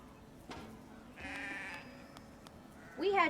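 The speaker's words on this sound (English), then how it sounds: "Ah, sheep." A sheep bleats in the Sable video game: one short, close bleat comes at the end after quieter game sounds.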